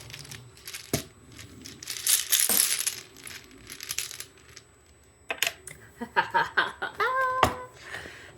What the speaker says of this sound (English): Let's draw a goddess amulet.